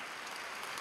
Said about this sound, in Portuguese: Vamos aplaudir esses pastores todos